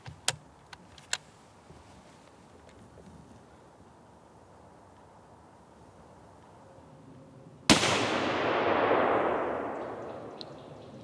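Single loud rifle shot fired outdoors to cull aurochs cattle in open pasture woodland, a sharp crack with a long rolling echo after several seconds of quiet ambience and a few faint clicks.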